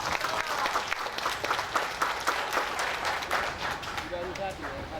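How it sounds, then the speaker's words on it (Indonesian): Audience applause at a Madurese arts performance and welcoming address, a steady wash of many hands clapping throughout, fairly loud and close, with voices mixed in beneath. "Tepuk tangan lagi dong."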